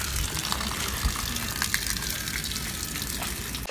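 Water pours and splashes in a steady, loud gush that holds from start to finish, with small irregular spatters on top and no voices.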